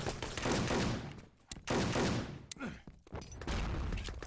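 Rifle gunfire in the shooter game Enemy Territory during a 6-on-6 LAN tournament match, several loud bursts of shots with brief gaps between them, fairly close and dense, no talking.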